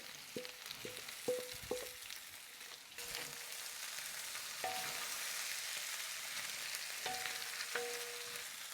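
Meat and peppers sizzle steadily in a pan, a continuous frying hiss with occasional clinks of a utensil against the pan in the first seconds.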